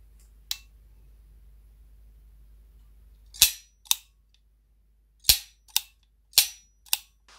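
Sharp metallic clicks and snaps of a Chinese-made, full-metal alloy Revolver Toys 208 cap gun being worked, a single click followed after a pause by a rapid cluster of six crisp, close snaps in an otherwise quiet room.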